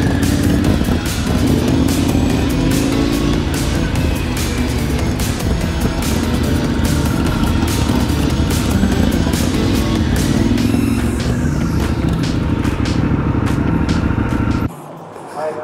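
A 1989 Harley-Davidson FXR motorcycle rides through a busy Bangkok market street, its engine a steady, loud rumble with surrounding traffic noise throughout, cutting off abruptly near the end.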